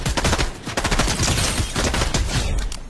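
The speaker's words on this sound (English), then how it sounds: "Oh, nope, they're still shooting at me." Enemy gunfire in the Fortnite video game: rapid, dense bursts of shots crackling one after another, loud and close, with continuous rattling throughout.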